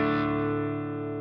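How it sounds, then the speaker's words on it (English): A single clean electric guitar chord rings out with no fuzz pedal engaged, a bright, sustained tone that slowly fades over about a second. "So the sound without the pedal is this one. Very, very clean."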